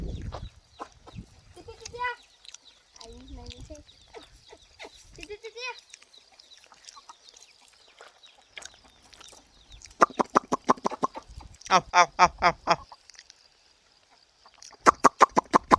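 Free-range village hens clucking up close, with rapid bursts of loud cackling in the second half and some speech mixed in early on.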